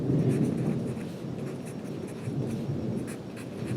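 Close pen or pencil strokes scratch across paper as figures are jotted down by hand, a steady scribbling rustle with small bursts of sharper scratches and no talking.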